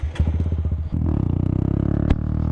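An off-road Honda Grom motorcycle with a changed sprocket accelerating, its small engine sputtering briefly and then revving up into a steady, buzzing drone, loud and close, with one sharp clack near the end.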